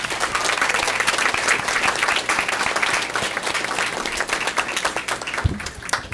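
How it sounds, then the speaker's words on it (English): An audience at a board of education meeting applauds the robotics teams with loud, dense clapping that holds steady throughout, close and full with a few sharper individual claps. "can we give our robotics teams another round of applause?"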